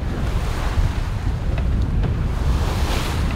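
Wind and waves at sea aboard a sailboat heading into Gibraltar, in about 15 knots of wind: a steady, loud roar of gusts and rushing water with mic buffeting, continuous throughout and without voices.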